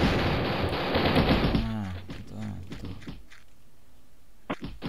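Rapid bursts of gunfire in the Mini Militia shooter game rattle loudly at first, then fade into scattered shots and thuds while players talk over the action.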